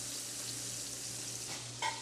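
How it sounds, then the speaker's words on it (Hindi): Fish frying in hot oil, part of a Bangladeshi fish-and-rice recipe: a steady close sizzle and crackle that holds throughout, with a brief louder spatter near the end and no voices. "ये जो फ़िश फ्राई हो रही है"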